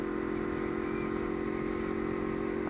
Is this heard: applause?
no